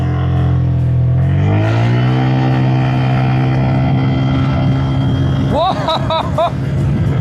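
A small VLF Mobster scooter engine revs up with a rising whine as it accelerates, holding a steady high drone, with wind noise throughout and a voice briefly heard near the end.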